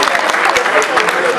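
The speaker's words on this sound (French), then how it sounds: "Applaudissez s'il vous plaît." Guests at a wedding reception applaud together in a hall, a brisk dense clapping that stays steady for the brief moment, with some voices mixed in.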